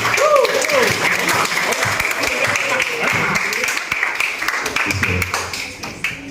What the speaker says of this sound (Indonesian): Tepuk tangan dulu Pak Guru.